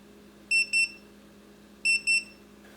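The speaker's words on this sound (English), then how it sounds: "The double beep signifies the completion of the charge process." A Spektrum S155 smart charger gives two double beeps at charge completion, each a pair of short, bright electronic tones, the pairs spaced about a second apart over a quiet background hum.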